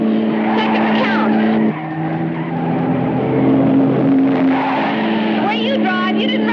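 A fast car in a 1939 film rounds a curve with screeching, skidding tires over a loud steady engine drone, the squeal rising near the end, with a voice speaking over it.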